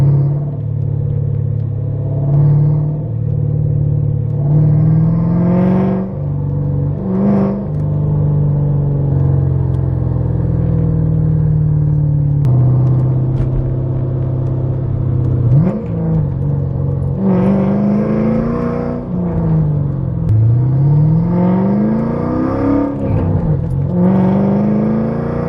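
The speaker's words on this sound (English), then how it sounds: "Let's drive it around, see how it goes." A Ford SN95 Mustang Cobra engine rumbles steadily while driving, with several sharp revs and shifting pitch sweeps as it accelerates, loud and close with no talk.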